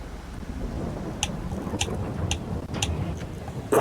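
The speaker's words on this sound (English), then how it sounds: "in fact there's the rain" Rain and thunder in the Farming Simulator 22 video game during a harvest in France: a steady wash of rainfall with several brief crackling bursts and a louder rumble at the end, no voices.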